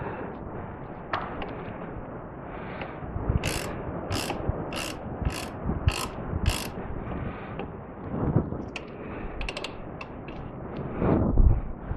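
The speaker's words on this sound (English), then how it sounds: "Now tighten the caliper bolts." A ratchet wrench tightens brake caliper bolts on a front-wheel-drive car, giving a run of six quick, crisp ratcheting bursts in a steady rhythm, with scattered clicks and mechanical clatter around them, close up and without talk.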